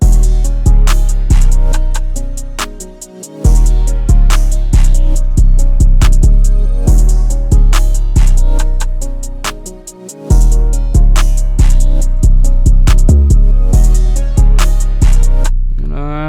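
A loud hip-hop beat with punchy kick and snare hits under a repeating melodic line, briefly dropping out twice before resuming.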